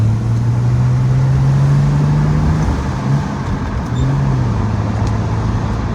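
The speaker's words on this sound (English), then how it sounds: "Just to make you guys hear the pipe, since this is a nice, cold, quiet road." A Toyota Cressida 2.8 Twin Cam engine drones steadily while driving uphill on a quiet road, its low exhaust note rising slightly and holding, loud and continuous with road noise underneath.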